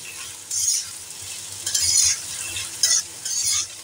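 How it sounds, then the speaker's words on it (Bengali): Potatoes and onion frying in a pan with okra, a steady soft sizzle broken by several louder bursts of stirring and scraping, close by with no talking. "আমাদের আলুটা একটু ভাজা ভাজা হয়ে এসছে"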